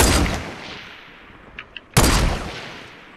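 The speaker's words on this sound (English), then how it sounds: "These sniping shots, they're horrible." Two loud, booming sniper rifle shots in Fortnite, spaced about two seconds apart, each with a sharp attack and long rolling decay, plus a couple of faint small clicks between them.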